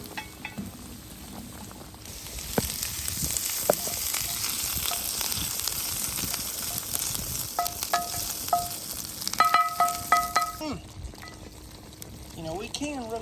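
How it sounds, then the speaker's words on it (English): Chicken frying in a pan over an open campfire for squirrel gravy, a steady loud sizzle with occasional stirring clinks and utensil taps, running continuously throughout. "Fry that chicken up."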